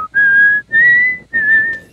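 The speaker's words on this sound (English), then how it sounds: "No whistling." A person whistles a short tune of three sustained, slightly wavering notes separated by brief pauses, close and clear with nothing else heard.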